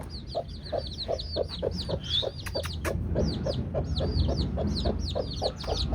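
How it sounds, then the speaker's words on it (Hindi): Many roosters of a paltī breed kept on a goat farm cluck repeatedly in a steady rhythm, with sharp higher calls over the top and a few brief louder squawks, close by and without speech. "ये सारे पलटी के मुर्गे हैं।"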